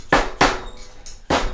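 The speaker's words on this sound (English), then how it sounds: "just drive around the edge with a hammer on a dead blow rubber hammer" A rubber dead blow hammer strikes Honda CBR400 motorcycle fork parts in a workshop, with three solid, close thuds spaced unevenly and a faint clink between them, no talking.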